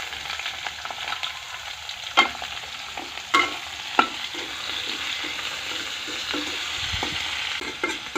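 Dried snakehead fish being stir-fried with tomato in a village kitchen, a steady sizzle of frying under repeated scraping stirs of the spatula with a few sharper clinks, heard close and without talk.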